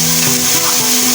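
Onion frying in ghee in a cooking pot, a steady broadband sizzle holding evenly through the short stretch, close and fairly loud, with a faint low hum underneath and no voices.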